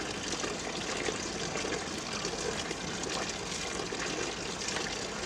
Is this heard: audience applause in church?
no